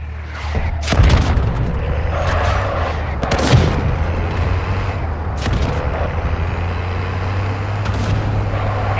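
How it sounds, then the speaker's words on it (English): Mortar strike explosions in the Warzone Mobile battle royale game: heavy booming impacts over a constant low engine rumble, with several loud blasts spread across the stretch and sharp cracks near the end. "Mortar strike inbound now."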